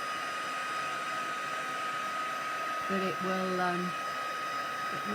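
A heat tool drying acrylic paint on an art journal page, a constant loud whooshing hum of blown air running throughout, with a brief spoken voice partway through.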